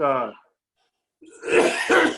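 Someone speaks briefly, then after a short pause coughs twice in close succession, harsh and fairly loud.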